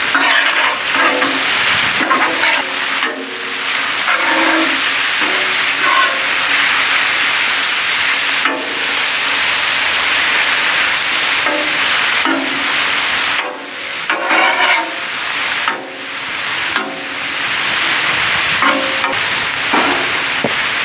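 Thick cut bacon frying and rendering fat on a hot Blackstone griddle, a loud continuous sizzle broken by repeated scraping and stirring strokes of a spatula, with no voices.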